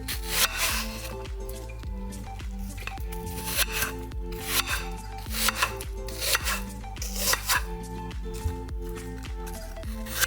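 A knife chopping apples into small squares on a board, producing a series of sharp, irregular cutting taps and scraping rubs, close and fairly quiet, with a steady tonal backing underneath.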